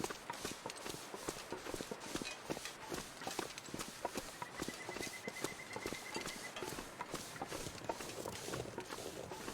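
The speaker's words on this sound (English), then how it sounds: "Thought I heard footsteps in there." Crunching footsteps in the survival video game The Long Dark, heard as a steady run of quick, faint crunchy steps continuing throughout on a snowy coastal highway.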